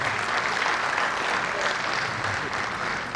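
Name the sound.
applause for a guest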